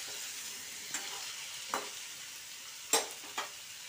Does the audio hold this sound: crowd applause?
no